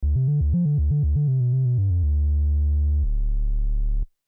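A worship-music synthesizer holds a deep, pure sub-oscillator tone, first pulsing in short rhythmic steps, then sustaining low notes that drop an octave before cutting off, loud and alone.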